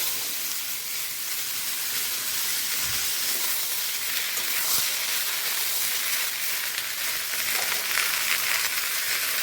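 Bottle gourd pieces sizzle and hiss steadily in a hot pan, a broad, continuous frying crackle with occasional soft clatters, even and close throughout.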